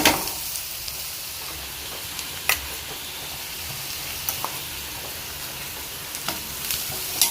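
Fish masala with turmeric and coconut frying in a pan, a continuous crackling sizzle with occasional sharp pops and spoon clicks, close and steady, no talking.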